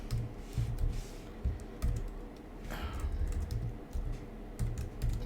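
Quiet, close clicking of a computer keyboard comes in irregular bursts of keystrokes with short pauses, and no one speaks.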